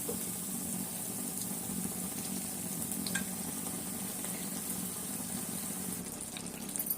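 Green chicken curry bubbles gently in a pot on the stove, a soft, steady low simmer with faint hissing and occasional small pops, quiet and unbroken throughout.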